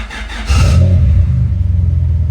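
A turnkey Honda with a D16Y8 engine swap and a failing transmission catches and settles into a loud, steady idle rumble after a short burst, heard close up with no talking.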